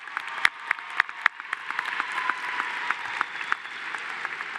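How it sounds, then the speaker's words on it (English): An audience at the 2025 Coronado High School graduation ceremony breaks into applause, a dense crackle of many hands with a few sharp nearby claps standing out, sustained steadily throughout. "Please join me in applauding these leaders."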